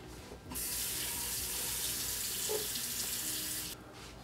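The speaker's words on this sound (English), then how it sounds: "the next step is going to be to just fill the pot with water" Water gushes steadily from a tap into a pot of cauliflower for about three seconds, then shuts off abruptly.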